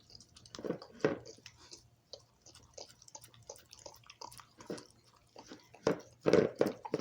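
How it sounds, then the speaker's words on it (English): A dog licks a mixing bowl and spoon of homemade puppy ice cream, wet lapping and smacking sounds coming in uneven bursts, close by, louder toward the end. "Every kid's favorite part of making treats is licking the bowl and the spoon."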